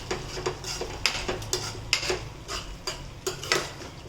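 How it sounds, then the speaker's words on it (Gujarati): A spoon stirring green chana curry with ground peanuts in a metal pan: repeated clinks and scrapes in an uneven rhythm, close and moderately loud, with no talking. "ને સારી રીતે મિક્સ કરી દઈશું."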